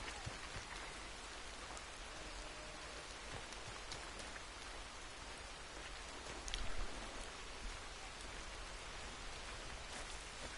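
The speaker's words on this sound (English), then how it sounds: "Well, it's raining" Steady video game rainfall patters evenly throughout, a soft continuous hiss of drops with no voices.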